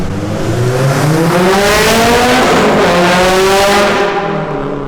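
A built 420 bhp Subaru WRX STI Hawkeye driving on a country road, its loud engine droning and rising steadily through revs from close inside the car, with no talk.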